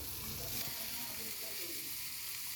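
Chili and coriander sizzle in a pan of tomato for pasta, giving a steady, close frying hiss with faint stirring and no talk.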